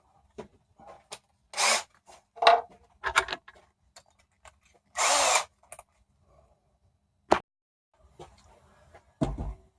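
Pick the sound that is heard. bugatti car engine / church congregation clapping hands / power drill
power drill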